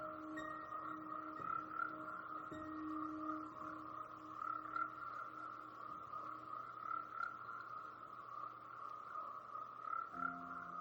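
Poison dart frogs in a Central or South American rainforest keep up a continuous chorus of rapid, repeating calls, with a few lower tonal notes and buzzes layered in, moderately faint and free of talk.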